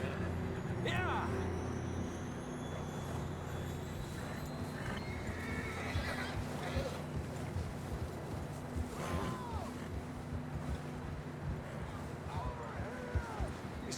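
Horses whinny several times over steady clip-clopping hooves in Red Dead Redemption 2, with a constant rumbling background and occasional voices underneath.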